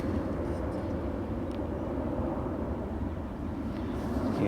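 A jet airliner passing near the runway at Newcastle International Airport, heard as a steady, broad engine roar with wind-buffeted rumble that holds at an even level and swells slightly toward the end.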